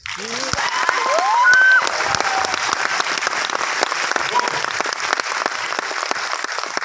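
An audience applauds at a business motivation gathering, scattered claps building into sustained clapping, with a brief rising voice or whistle near the start and loud clapping continuing throughout.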